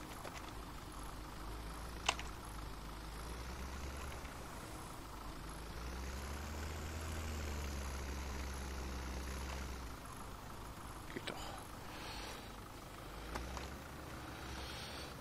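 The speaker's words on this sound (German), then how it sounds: "Ist der Trecker jetzt zu so schwach auf der Brust oder was?" A tractor engine in the farming game Landwirtschafts-Simulator 17 drones steadily, its low rumble swelling as it works harder midway, with a few sharp clicks over the continuous hum and no talk.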